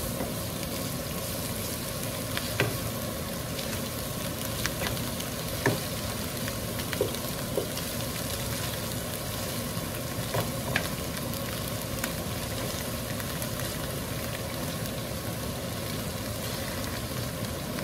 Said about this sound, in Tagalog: Gisa na po natin yung ating beef.